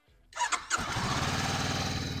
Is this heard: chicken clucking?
no